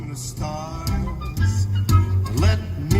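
Bass-heavy music plays through the premium upgraded sound system of a Tesla Model S, with deep pulsing low notes and melodic tones filling the cabin for a few seconds.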